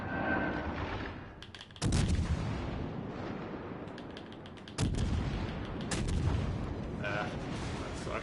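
Naval guns boom in World of Warships Legends, heavy salvos firing in several loud bursts with rumbling tails over continuous battle noise and game sounds.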